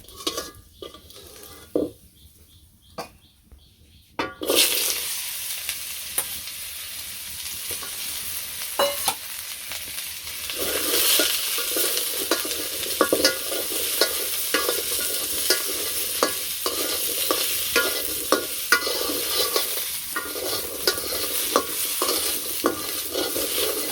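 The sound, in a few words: potatoes frying in oil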